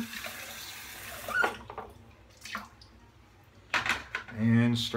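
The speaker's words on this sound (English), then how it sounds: "Put a little bit of warm water on it." Warm water runs briefly from a tap while lather is prepared for a wet shave with a 1964 Gillette Slim Adjustable razor, in short splashing bursts close by, with quiet moments between them.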